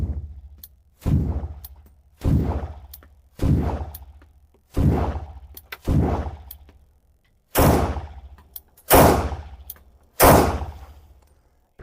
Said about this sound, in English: We can insert them into the gun, rack the slide. The gun is obviously ready to fire.